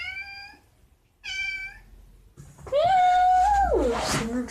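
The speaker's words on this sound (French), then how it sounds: "Les chats." Cats meowing up close: two short, clear meows separated by a pause, then a longer, louder drawn-out meow with a rising and falling pitch over some background noise.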